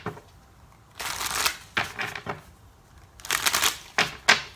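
Tarot cards being shuffled by hand in several bursts of crisp riffling and fluttering, close and clear with short quiet gaps between, no talking.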